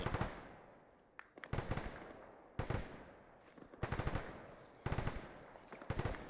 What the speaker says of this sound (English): Alpha's taking PKM fire somewhere to our southeast